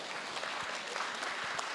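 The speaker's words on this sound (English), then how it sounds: "that deserves a round of applause" A conference audience at a conservative political panel applauds, a short dense burst of steady clapping throughout.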